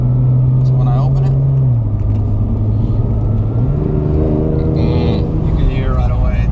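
A 650+ hp Porsche 991 Turbo exhaust rumbles with its valves open, bypassing the mufflers, a deep steady drone that shifts pitch as revs climb and settle, with someone talking over it throughout.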